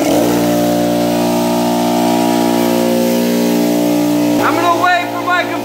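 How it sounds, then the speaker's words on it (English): An air compressor filling up runs with a loud, steady mechanical drone that holds even for several seconds, then cuts out, leaving a brief burst of clatter near the end. "I'm gonna wait for my compressor to fill up because it's kind of loud"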